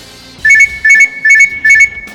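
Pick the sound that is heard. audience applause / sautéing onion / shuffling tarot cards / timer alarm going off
timer alarm going off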